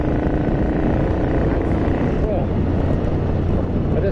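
A Ducati 900SS bevel-drive motorcycle engine pulls hard at full throttle, a loud continuous close-up drone with wind buffeting throughout and a slight wavering in pitch where it hesitates.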